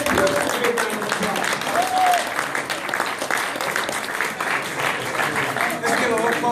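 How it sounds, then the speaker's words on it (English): An audience at a Compton High School event applauds an assistant principal as she is called forward, with steady, fairly loud clapping throughout and voices talking and calling out over it. "let's give Ms. Pearson a big round of"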